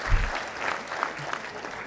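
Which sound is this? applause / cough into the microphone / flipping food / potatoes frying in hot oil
applause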